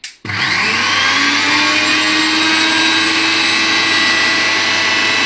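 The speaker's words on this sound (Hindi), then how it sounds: "और अब हम इसको पीस लेते हैं मिक्सी में।" A mixer grinder grinding chilies switches on and whirs at a constant high-pitched roar, loud and close, running steadily without pause or speech.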